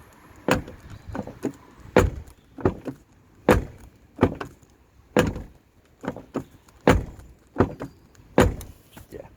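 A Rover 45 car door shuts repeatedly, about a dozen sharp, hollow, tinny thunks at irregular intervals, close by with no talking.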